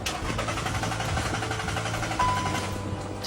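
A car's starter cranks over and over in an even, rapid chugging rhythm, close and steady, while the engine still refuses to fire.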